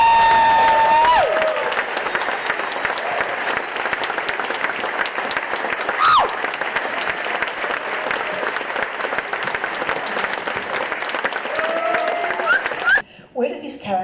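A festival audience gives long, steady, loud applause with some cheering to welcome comedian Molly Shannon, continuing for most of the time before cutting off abruptly near the end.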